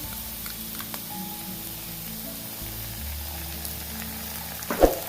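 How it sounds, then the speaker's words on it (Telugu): Schezwan sauce frying on high flame for Schezwan Manchurian, a steady low sizzle running throughout with faint stirring and a brief louder clink near the end. "ఇవన్నీ మనం హై ఫ్లేమ్లో పెట్టుకొని మనం ఫ్రై చేసుకోవాలి"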